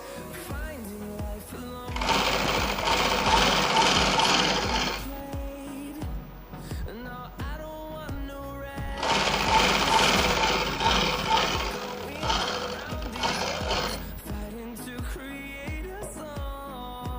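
A sewing machine stitches a petticoat seam in two sustained loud runs with a steady mechanical whir and brief quieter gaps between and after them.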